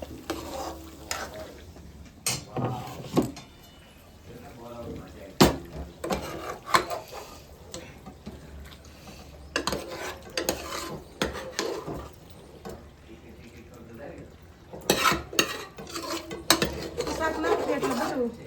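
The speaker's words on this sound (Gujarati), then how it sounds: "ગેસ ધીમો કરી હવે આપણે નાખ દઈએ શાક" Chopped vegetables such as potato and cauliflower go into an oiled pan on low gas for pav bhaji and are stirred, giving close scraping, clattering and sizzling strokes with a few sharp knocks, while people talk throughout.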